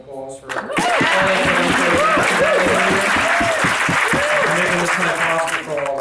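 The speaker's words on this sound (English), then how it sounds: "I think they're deserving a round of applause" Wedding reception guests break into loud, sustained applause after a toast, a dense wash of clapping that holds steady for several seconds with voices and a few chuckles mixed in.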